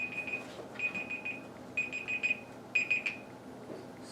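A digital kitchen-style timer alarm goes off in four quick bursts of shrill, evenly spaced beeps, each cluster about half a second long with short pauses between, fairly close over a faint room hiss.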